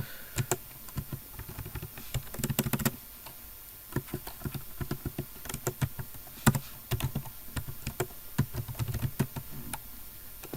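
Irregular clicking of keys typed on a computer keyboard, near and fairly quiet, with bursts of fast strokes and short pauses, while notes are written into a ChatGPT chat.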